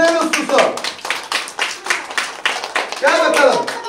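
Students in a classroom clap for a volunteer in a quick, uneven patter. The clapping runs under a loud, nearby adult voice that keeps talking throughout.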